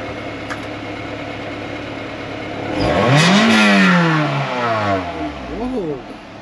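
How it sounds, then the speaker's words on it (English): Honda Integra DB8 Type R engine idling, then revved hard once so the pitch climbs sharply and falls back, followed by a shorter blip. Loud and close, with voices present. "Rev it up."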